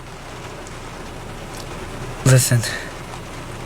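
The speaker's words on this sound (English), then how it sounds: "Yeah, it's raining like hell, guys." Heavy rain falls in a steady, even hiss that fills the whole clip, while a voice briefly speaks over it.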